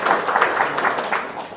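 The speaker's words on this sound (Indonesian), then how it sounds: "Wow, tepuk tangan dong." An audience at a seminar breaks into loud, steady applause. Many hands clap close together in a dense burst that lasts the whole moment.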